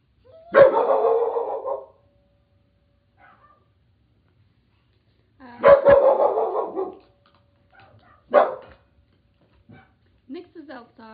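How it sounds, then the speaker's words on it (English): Dogs barking outside near a school: three separate loud bursts of barking with quiet gaps between, followed by a few fainter yips. "playing, distracting the dogs. So that's what they keep barking at."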